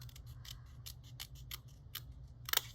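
Scissors snip through chipboard pieces along a dotted score line, a series of crisp, close cuts at an uneven pace, with a sharper double snip near the end.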